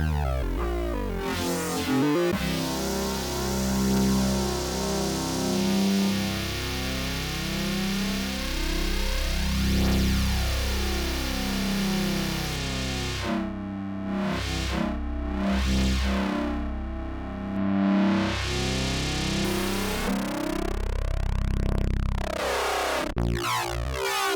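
A triangle-wave tone from an FM8 software synthesizer drones and slides through shifting pitches, its tone rich and slightly hollow, with swooping sweeps and filtered changes over a long continuous stretch.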